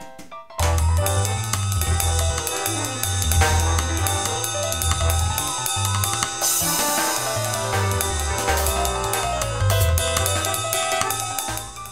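A full big band ensemble plays together, brass, saxes, piano, bass and drums all at once. The sound is loud, dense and continuous, with a driving low bass pattern and bright cymbals and horns on top.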